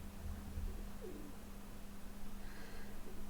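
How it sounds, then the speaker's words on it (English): A pigeon overhead gives a soft, faint coo, almost lost in steady background hiss and hum. "Now I'm hearing this like pigeon over my head."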